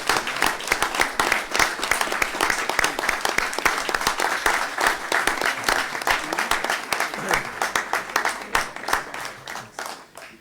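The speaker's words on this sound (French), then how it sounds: "On peut les applaudir, je crois." Audience at a municipal council installation session applauding the newly elected deputy mayors, steady dense clapping filling the room for about ten seconds before thinning out at the end.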